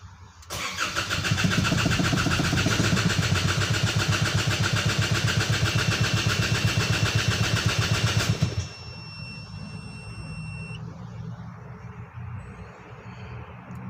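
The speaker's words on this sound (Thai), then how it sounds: "เราสตาร์ทใหม่อีกครั้งหนึ่งนะครับ" An Isuzu D-Max 3.0 diesel engine is restarted: a loud, rapid chugging crank-and-run rattle for about eight seconds, then it cuts off abruptly, leaving a quieter hum and a faint high whine.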